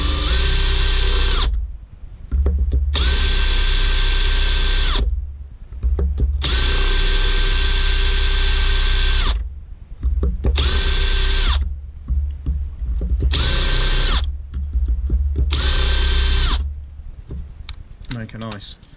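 A power drill, set off hammer mode, whirs in several bursts of a few seconds each while drilling busbar holes, separated by short pauses, close and loud, with brief speech between bursts.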